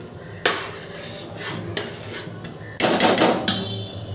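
A spoon knocks and scrapes against a metal cooking pot while ingredients are mixed for khichuri, with a few loud clanks and bursts of scraping separated by quieter stretches.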